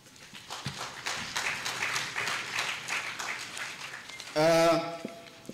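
Audience at a local government college convocation in Hombolo, Tanzania, claps together in a dense, steady roll of applause lasting several seconds, recorded in a hall.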